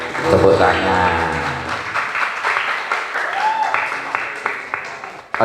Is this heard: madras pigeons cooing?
no